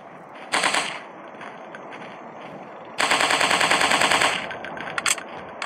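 Automatic gunfire from a 3D dinosaur hunting shooting game on Android. Two loud, rapid bursts ring out, a short one early and a longer sustained volley later, with a couple of single sharp shots trailing after.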